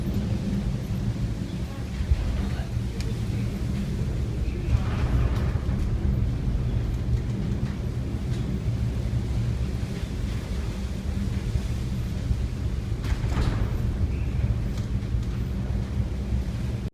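A 3,400-ton vessel ploughs through a storm in the North Sea, with constant loud roaring wind and rushing water and occasional heavier gusts, and no voices.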